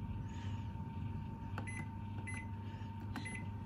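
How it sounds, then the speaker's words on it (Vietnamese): A Panasonic NE-A305 microwave oven set to grill mode, humming steadily with a low drone and a constant mid-pitched tone, broken by a few faint clicks and short beeps. "Nhà nói trong vi sóng này nó hoạt động tốt hết."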